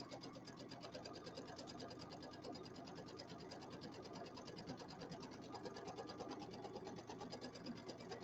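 A sewing machine stitches a fabric pillow seam, its needle running in a fast, steady, even mechanical chatter that continues without pause; the sound is quiet and captured close, with no voices over it.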